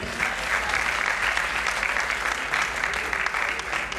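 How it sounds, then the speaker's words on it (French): A church congregation applauds with dense, even clapping throughout, moderately loud and sustained from start to finish without pause. "On applaudit le Seigneur dans la ville."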